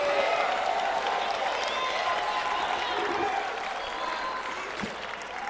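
Church congregation shouting, cheering and applauding during a sermon, a loud, sustained wall of clapping and voices that carries on steadily for several seconds.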